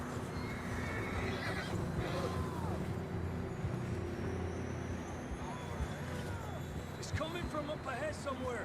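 Horses neighing and whinnying during a ride in the video game Red Dead Redemption 2, several drawn-out whinnies at moderate distance over low rumbling hoofbeats and ambient noise, with talk in the background.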